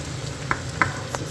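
Eggplant frying in a little oil in a pan, a steady soft sizzle with a couple of brief spatula clicks.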